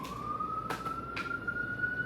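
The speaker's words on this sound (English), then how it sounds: "And look, the siren in the background" A faint siren wails in the distance as one steady, slowly rising tone that holds throughout, with a couple of soft thumps nearby.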